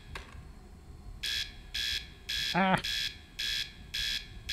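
Repeated electronic alarm beeps from a space station survival game, sounding in steady evenly spaced bursts, with a brief man's exclamation partway through.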